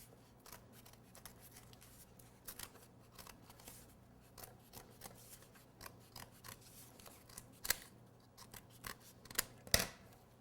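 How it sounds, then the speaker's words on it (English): Scissors snip around a cardboard cake base while trimming a leprechaun top hat cake, producing a steady run of small, close cuts with a few sharper snips near the end. "just trim up the cardboard at the base just a little bit"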